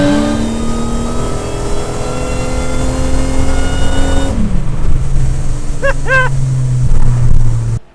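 A supercharged 1997 Pontiac Grand Prix GTP engine with an equalizer downpipe and crossover revs hard up close, its note dropping back to a loud idle before cutting off.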